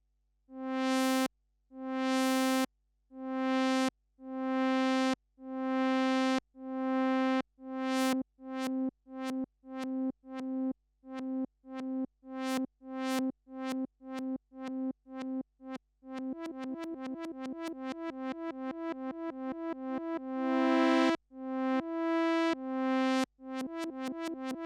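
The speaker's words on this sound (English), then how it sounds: "now I only change the amount of modulation, and it strongly manipulates the attack phase of the sound" An Access Virus synthesizer repeats one note in a steady sequence while the filter envelope's attack modulation is changed, tones shifting from soft swelling onsets to sharp plucky clicks and rapid buzzy repeats, clean and isolated.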